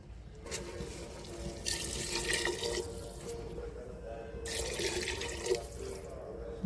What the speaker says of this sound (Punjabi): ਹੁਣ ਆਪਾਂ ਇਹਦੇ ਵਿੱਚ ਪਾਣੀ ਐਡ ਕਰਾਂਗੇ